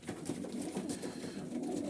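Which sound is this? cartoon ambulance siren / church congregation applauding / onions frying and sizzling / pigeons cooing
pigeons cooing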